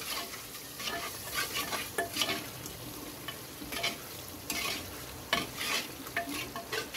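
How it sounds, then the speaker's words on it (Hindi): Cream is stirred into a mutton stew frying in a pan, with a steady sizzle and repeated scraping strokes of a spoon, loud and close with no talking. "3 टेबलस्पून जो हमारी क्रीम है वो हम इसमें ऐड करेंगे। इसको अच्छे से मिक्स"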